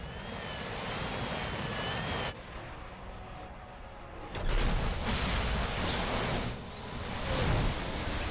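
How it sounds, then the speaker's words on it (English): Mech thrusters firing at full power in the sci-fi video game Lost Planet give a loud, continuous jet-like roar that dips briefly and then surges back, close and dominant, with no speech. "Wayne puts the thrusters to full as we shoot up through the facility"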